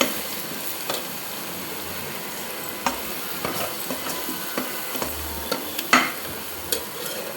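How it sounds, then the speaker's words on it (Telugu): Oil sizzles steadily in a pan with salt while a spoon stirs through it, scraping and clinking against the metal in brief taps over a continuous close frying hiss. "ఫ్రై అవుతుంది."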